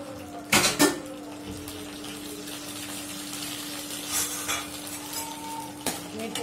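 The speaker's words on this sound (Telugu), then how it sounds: "వంకాయలు వేగిపోయాయి, సపరేట్గా తీసేసాను." Brinjal (eggplant) pieces fry in oil in a pan, a soft continuous sizzle with sharp metallic clinks of utensil against pan near the start and end.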